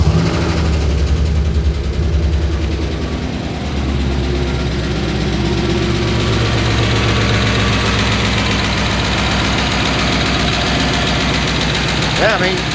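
A truck with a 4L80E transmission, after a repair, is started and settles into a steady idle. The engine rumbles loud and close throughout, with a low, even drone and some rattle.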